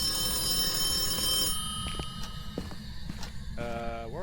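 An old telephone bell rings in a haunted house in Phasmophobia, a loud sustained metallic ring that cuts off, followed by scattered footsteps and knocks and another brief ring at the end.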